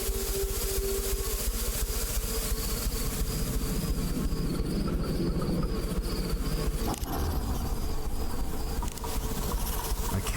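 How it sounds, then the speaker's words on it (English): An insect swarm in a video game buzzes as a dense, constant drone layered with whining tones, sustained throughout with a brief sharp change midway and no talk over it. "We can't do anything with the insect swarm"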